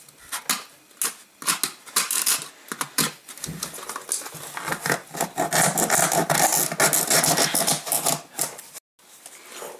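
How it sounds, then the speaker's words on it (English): A rasp files a hole in a Cessna switch panel, giving rapid, close, scratchy strokes in an uneven rhythm with brief pauses. "So, I think I'll just use the rasp again."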